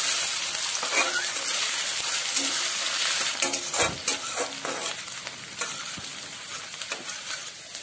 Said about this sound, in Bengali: আলুগুলো 2 মিনিট মিডিয়াম ফ্লেমে ভালোভাবে ভেজে নেব।